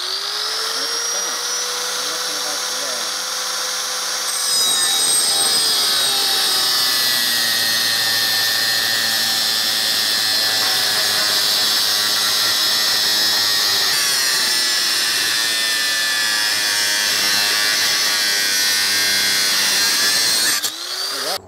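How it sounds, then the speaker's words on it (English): A power tool, likely an angle grinder, cuts through a piece of angle iron for a bracket: a loud, steady high-pitched whine that starts after a brief spin-up and holds for about sixteen seconds before cutting off, close to the listener. "The first thing I'm going to do is cut this piece of angle iron down to make the bracket."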